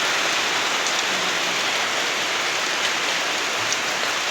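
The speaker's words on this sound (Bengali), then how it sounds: "আজকে সারাদিন মনে এমনই বৃষ্টি পড়বে," Heavy rain pours down in a constant, dense hiss of drops striking surfaces, loud and unbroken throughout with no voices.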